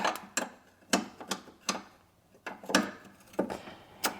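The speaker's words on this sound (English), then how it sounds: "we're gonna place a 10mm flare nut wrench on the end. And we're going to turn it out." A 10mm flare nut wrench turns out a brake line fitting on an AE86, giving a series of separate metallic clicks and ratcheting taps spaced irregularly across a quiet background.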